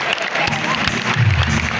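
Steady, dense clapping from a live audience at a comedy show by comedian Ehsan Qureshi in Rewa, lasting the whole short stretch with a rough crowd wash and faint voices mixed in.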